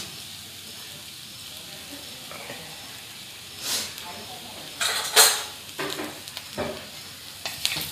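Cumin seeds hit a pan with green chillies and burst into a sharp hissing sizzle in several bursts, alongside stirring scrapes, close and fairly loud, with someone talking at times.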